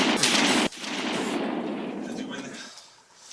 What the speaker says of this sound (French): je vais tirer une balle